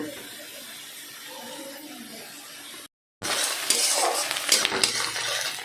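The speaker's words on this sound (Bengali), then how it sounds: "এবারে পেঁয়াজটা দিয়ে ভালো করে পেঁয়াজটা ভেজে নেব" Onions frying and stirred in a pan, a soft sizzle first, then after a brief cut a louder, crisper frying hiss with spatula scrapes and clinks against the pan.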